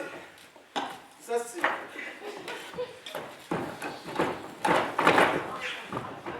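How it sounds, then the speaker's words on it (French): A fork repeatedly jabs and scrapes at a rock-hard roast on a plate, giving sharp clinks and clatters in irregular bursts, close and fairly quiet, with voices murmuring in the room. "Je peux même pas piquer la fourchette dedans"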